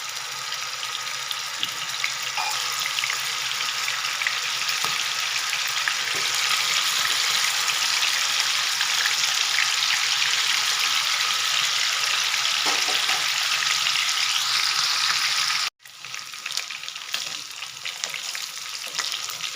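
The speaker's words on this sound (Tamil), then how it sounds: "நம்ம கலந்து வச்ச சிக்கனையெல்லாம் இதில் போட்டு பொறிச்சு எடுத்துடலாம்" Marinated chicken pieces deep-frying in hot oil, a loud steady bubbling sizzle that runs continuously and briefly cuts out near the end before resuming.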